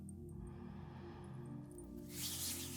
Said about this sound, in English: aura spray